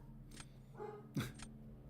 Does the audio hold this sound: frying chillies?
no